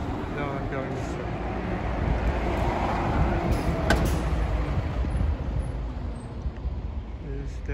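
A Denden city bus rolls past on a Morioka street, a steady broadband rumble of engine and road noise that swells slightly mid-pass amid general traffic ambience, with a voice talking over it.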